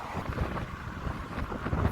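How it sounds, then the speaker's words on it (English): Strong wind blowing by the river in London, buffeting a microphone with low, gusty rumble and steady roar, no voices. "Very windy, people."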